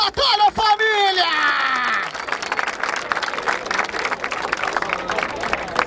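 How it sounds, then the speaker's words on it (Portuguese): Audience at a Brazilian rap battle (Batalha da Aldeia, Barueri) breaks into loud clapping and crowd noise after a brief shouted call from the host, applause continuing steadily. "Palmas pra essa batalha, família!"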